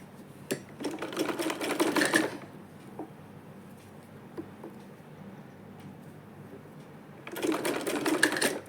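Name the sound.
sewing machine stitching a round neck on fabric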